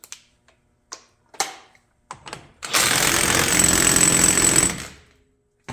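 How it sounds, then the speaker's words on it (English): Impact gun tightening a CV axle nut during a high-angle heavy-duty CV axle install, a loud sustained burst of rattling hammering lasting about two seconds, preceded by scattered clicks and clanks of tools. "This nut out here, I torque to all my gun has."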